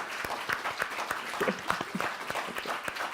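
Applause from the audience in the room after a live talk, a continuous patter of many hands clapping at moderate volume, with a few brief voices or cheers mixed in.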